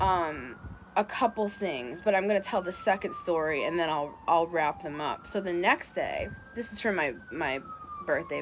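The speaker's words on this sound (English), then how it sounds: "I'm sorry for the sirens in the background" Police sirens wail steadily in the background, rising and falling in pitch throughout, while someone talks continuously over them at close range.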